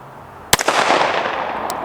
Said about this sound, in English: Now let's see if I can do it on a 10-inch plate at about